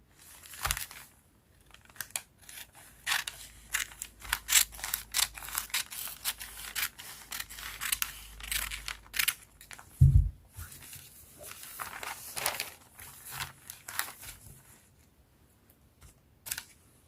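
Scissors snip through blouse fabric as a sleeve piece is slit open on a cutting table, giving irregular crisp cuts and crinkling rustles with a soft thump partway through.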